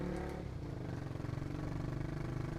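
A motorcycle fitted with a Proliner exhaust with the dB killer removed, idling and revving with a deep, throbbing, bassy rumble, close and steady over a few seconds.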